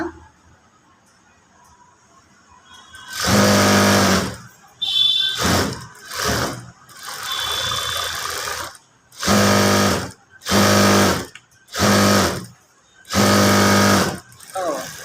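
A sewing machine stitching around the edge of an embroidered work blouse runs in loud, close bursts of rapid mechanical whirring, stopping and starting about eight times with short pauses between runs.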